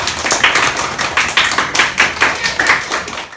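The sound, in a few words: audience applauding loudly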